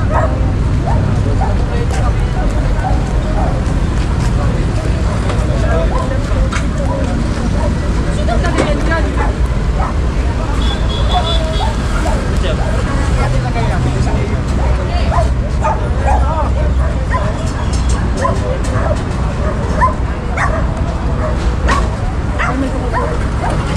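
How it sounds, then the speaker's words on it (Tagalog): Several dogs bark and yip at a busy street clearing operation, sharp repeated yaps scattered through constant traffic and crowd noise, with people talking nearby. "Daming mga hayop dito, mga aso"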